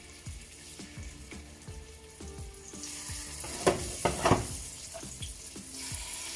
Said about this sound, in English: we're gonna fry them up nicely